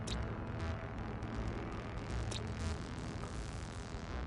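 A spaceship lifts off in No Man's Sky, a continuous dense roaring engine rush that holds steady and loud throughout, with a few faint higher clicks and chirps on top and no voices.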